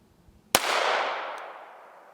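A 5.7x28mm Speer Gold Dot 40-grain hollow-point round is fired into a 10% ballistics gel block at an indoor range, giving one sharp, loud report that decays into a long ringing wash.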